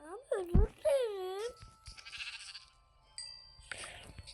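A synthetic-sounding Minecraft sheep bleat rises and wavers twice near the start, followed by softer game noises and faint background chatter.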